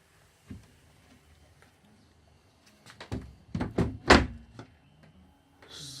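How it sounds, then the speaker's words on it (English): Sliding door on the helm of a Mainship 400 boat, heard as a faint knock followed by a cluster of sharp clicks and thuds as it moves and latches, then a brief rushing slide at the end. "Sliding door on the helm."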